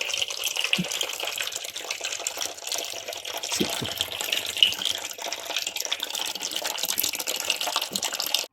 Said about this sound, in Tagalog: Kailangan dinidrain nyo din para luminis yung line ng tubig